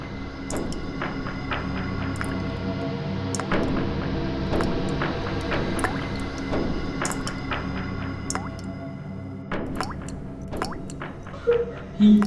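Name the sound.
liquid dripping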